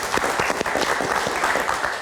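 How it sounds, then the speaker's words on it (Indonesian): Audience applause for filmmaker Joko Anwar at a film event, a dense, steady wash of many hands clapping at full strength, with no voices over it for the whole two seconds. "beri tepuk tangan sekali lagi Mas Joko Anwar"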